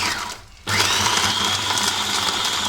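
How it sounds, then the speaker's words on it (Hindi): A kitchen blender starts suddenly and then runs with a loud, steady whirring whine while it mixes a banana milkshake. "अब हम क्या करते हैं, अपने ब्लेंडर को ऑन करते हैं।"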